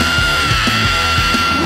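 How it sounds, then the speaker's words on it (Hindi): A person screams for help, a loud, sustained, steady cry that fills the whole moment without pause or other voices. "इसे कौन चिल्ला रहा है?"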